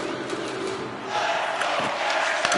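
Hockey arena crowd in the EA Sports NHL video game during a tied game: a steady, loud roar of cheering spectators that swells partway through, with faint sharp knocks.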